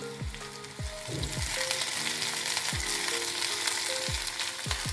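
Green peas frying in a pan for oats upma, a steady close sizzle with repeated scraping and stirring strokes against the pan, no voices.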